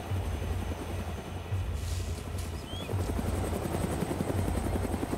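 Helicopter in the video game DayZ, being set down on flat ground: a loud, continuous rotor thud and engine whine with a steady rhythmic chop throughout, close and dominant.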